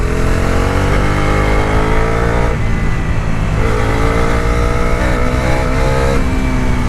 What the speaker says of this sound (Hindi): ओवरऑल थर्ड गियर पे यू कैन गो फ्रॉम 35-40 से लेकर के आप 60-70 तक आप जा सकते हो कंफर्टेबली।